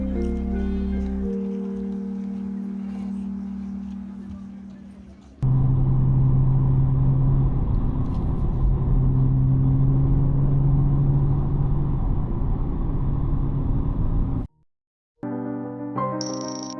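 BMW M240i driving on British Columbia's Sea-to-Sky highway, its engine note steady and close throughout, with a brief cut to near silence near the end before the drive resumes.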